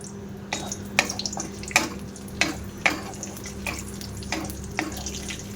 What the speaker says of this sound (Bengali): কিশমিশগুলো ভাজা করে নেব।